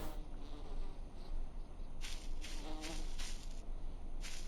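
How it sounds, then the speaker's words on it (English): An insect-like buzz in the Voices of the Void video game drones steadily and fairly close, with brighter pulsing bursts in the second half and no talk. "something's like buzzing in my face right here."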